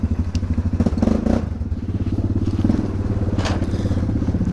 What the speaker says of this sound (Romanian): evacuarea e superbă, cum se aude în realitate